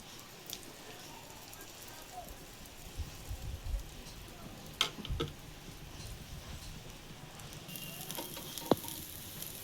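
Pesarattu, a moong dal dosa, frying in a fair amount of oil on a pan, giving a soft steady sizzle throughout with a few faint clicks and taps, low and close, with no one talking.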